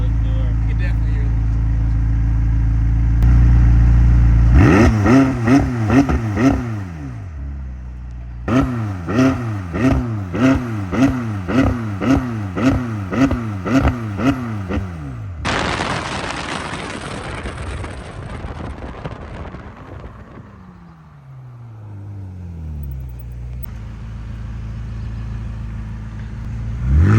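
McLaren 600LT supercar engine revving with audible turbos, a loud idle followed by a series of sharp, repeated throttle blips close by, then a long roaring rev that winds down, with voices talking at points.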